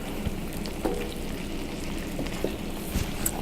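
Pasta simmering in melted butter in a pan gives a steady close sizzle and crackle throughout, with faint scattered pops and no voices.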